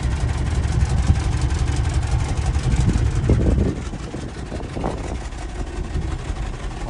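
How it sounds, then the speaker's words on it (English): A 1967 Lincoln V8 idles through a newly finished exhaust, giving a steady, loud low rumble that drops slightly in level partway through, with a few faint clanks over it. "judging by the sound the exhaust is making, sounds like my timing might be off a bit"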